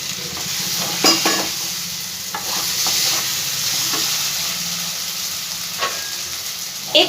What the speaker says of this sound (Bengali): মশলাটা আমার খুব ভালো করে ভাজা হয়ে গেছে, মশলাটা থেকে তেলটাও ছেড়ে দিয়েছে।